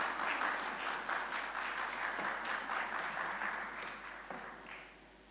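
At the EduVision eLearning ICT Conference 2016, a seated audience gives sustained applause for a speaker. The applause is fairly distant and even, then fades toward the end.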